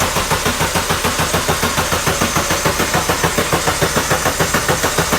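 A car engine cranks over with the starter, a loud, close, steady rhythmic chugging churn pulsing evenly throughout without catching.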